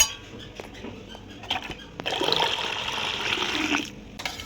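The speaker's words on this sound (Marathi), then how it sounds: "तर त्यासाठी येथे 1 तांब्या मी थंड पाणी टाकणार आहे." Cold water poured from a small metal pot into raw mango paste in a vessel, a short splashing gush lasting under two seconds after a few light clinks, close and with no talking.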